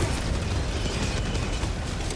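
A deep, sustained explosion roars through a video game for about two seconds, loud and dense, with no speech over it.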